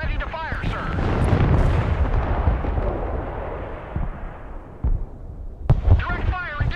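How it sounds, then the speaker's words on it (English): Artillery firing in the combat game Broken Arrow, a deep sustained rumbling roar from a barrage that slowly fades, followed by another sharp boom near the end, with voices speaking over it at the start and finish. "Artillery ready to fire, sir."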